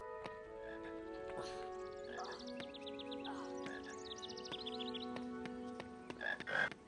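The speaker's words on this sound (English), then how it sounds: "I know I don't need the frog, but if I grab it, then it shuts up." A frog croaks repeatedly in the Harry Potter and the Sorcerer's Stone video game, its rapid trilled calls steady against looping game music and sustained tones.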